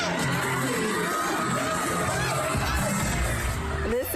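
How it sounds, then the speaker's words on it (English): Partygoers cheer and shout in a dense, continuous crowd roar, with some high children's or whooping voices mixed in, loud and steady throughout. "When some of the partygoers notice, they start waving and cheering."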